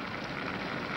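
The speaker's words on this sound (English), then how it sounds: "It's raining." Steady rain falls in an old 1941 film scene, a soft, even hiss throughout, faint and continuous with no talking.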